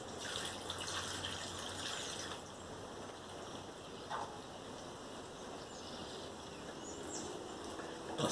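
Rainwater pours steadily in a broad, hissing wash that holds at an even level throughout, with a few faint bird chirps in the background and no voices.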